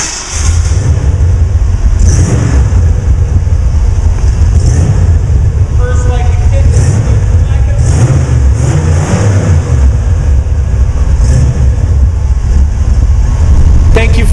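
A 1957 Ford Custom shortbody's engine running loud and close, a steady low rumble with brief rises in revs, while people talk over it.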